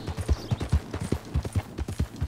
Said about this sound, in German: da kommt einer geritten